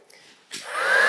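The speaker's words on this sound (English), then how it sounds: "turn on my noisy heat gun" A heat gun switches on halfway through, its broadband hot-air roar rising steadily and growing louder toward the end, used while assembling an internal support structure for a horse-shaped cake.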